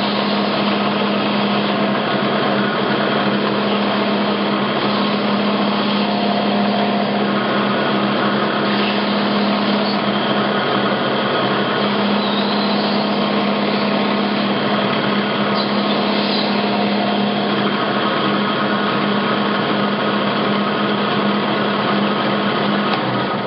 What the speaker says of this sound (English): So a belt sander is the machine that can do this job.